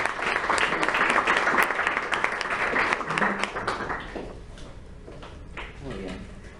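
A class audience applauds at the end of a Data Mining lecture, a dense burst of clapping that stays steady for several seconds and then thins out, with some talk and room noise near the end.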